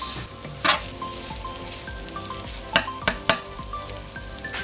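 Microwave rice and mince sizzle in a frying pan while being stirred and broken up, steady frying hiss with a few sharp scraping clacks of the utensil against the pan, close and without talk.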